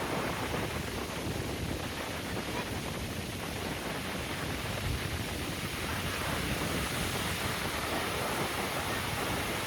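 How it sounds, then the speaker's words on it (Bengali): Steady roar of ocean surf at Digha beach before dawn, a broad continuous wash of breaking waves with no distinct single crashes, loud and unbroken throughout. "শুধু ঢেউ আসছে"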